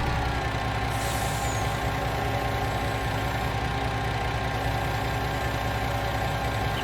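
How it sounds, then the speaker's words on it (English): A MAN Agro truck engine idles steadily, a loud, constant low rumble, and a brief hiss of air brake release rises near the start. No one speaks. "that's why I got the Man Agro truck, because it can do stuff"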